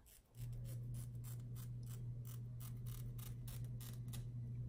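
Scissors snip steadily through a wig before it is fitted, a run of crisp, evenly spaced cuts over a constant low hum, close to the microphone with no talking.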